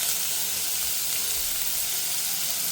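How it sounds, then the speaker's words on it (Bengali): Bitter gourd frying in oil tempered with spices, giving a loud, steady, close sizzle with a constant hiss and no voices. "উচ্ছে দিয়ে আমি একটু ভালো করে ভেজে নেব যতক্ষণ না উচ্ছেগুলো সেদ্ধ হচ্ছে"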